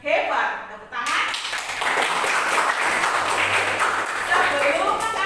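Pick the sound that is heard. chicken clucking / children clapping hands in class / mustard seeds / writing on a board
children clapping hands in class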